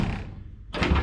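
The cab door of a Chevrolet C10 truck swings with a brief creaking sweep, then shuts with a solid thunk, close and fairly loud.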